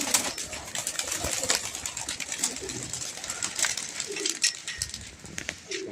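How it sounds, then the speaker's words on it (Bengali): A flock of 23 racing pigeons is released at a pigeon-flying competition, with a burst of fluttering wingbeats, scattered soft coos and clicks, and moderately close flapping that fades unevenly. "এই আমাদের 23টা পায়রা ছেড়ে দিলাম"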